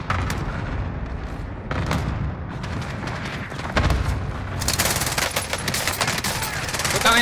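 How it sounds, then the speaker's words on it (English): Enemy cluster strike in a video game, a rapid fusillade of blasts and crackling explosions that grows harsher and denser toward the end, loud and continuous. "Enemy cluster strike incoming."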